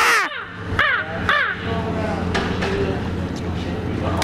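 A person at school imitates a crow, giving three harsh, caw-like calls in quick succession near the start, followed by ongoing room noise and chatter.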